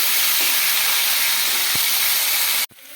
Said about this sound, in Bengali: ওই তেলের মধ্যে দিয়ে দেবো পেঁপে আর আলুটা। দিয়ে ভালো করে একটুখানি সবজিটাকে ভেজে নেব।